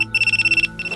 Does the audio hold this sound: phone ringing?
yes